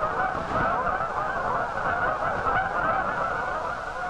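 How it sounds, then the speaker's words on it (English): Wild Canada geese honk continuously in flight, a dense chorus of many birds in large formations overhead, steady and fairly loud throughout. "Wild geese on the wing."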